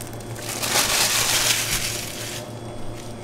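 A fried panzarotti bitten into, giving a loud close crunch followed by several seconds of crackling, crispy chewing with no talk.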